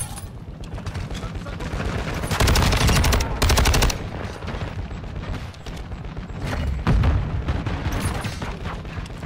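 Automatic weapon fire in Call of Duty: Modern Warfare II, with rapid dense bursts of shots over continuous in-game noise, loudest in two sustained volleys.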